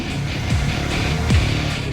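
A modified production Harley-Davidson engine tuned past 115 horsepower runs on a dyno truck, a steady loud mechanical drone with two quick rising revs standing out.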